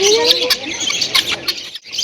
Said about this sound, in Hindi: कितनी सारी चिड़िया तोते।